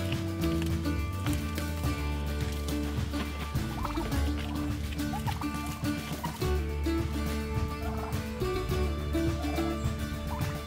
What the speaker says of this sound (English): Morning, turkeys.